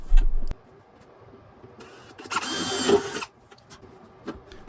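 A power drill bores holes for mounting screws in a metal frame for a solar chicken coop light, in one close whirring burst of about a second after a brief thump and quiet pauses.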